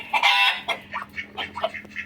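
A brooding hen sitting on eggs clucks close by in a quick series of short, throaty notes, with soft rhythmic murmuring between them.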